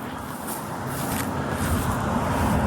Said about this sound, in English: Hear traffic coming.